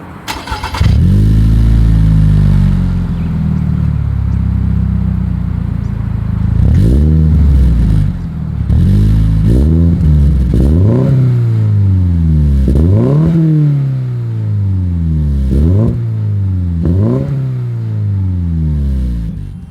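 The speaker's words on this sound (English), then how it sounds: "here is that exhaust clip" A 2024 Toyota GR86 sports car starts up and revs repeatedly, its exhaust rising and dropping in sharp, loud blips that come in a fairly regular rhythm after a longer opening rev, with no talking.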